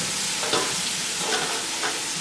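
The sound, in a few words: stir-frying capsicum with vegetables and chicken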